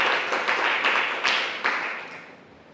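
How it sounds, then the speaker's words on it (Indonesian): A church congregation claps together during an Indonesian sermon, a fairly close, dense burst of handclaps with a few sharper accents that gradually thins and fades over a few seconds. "Beri tepuk tangan saudara-saudara."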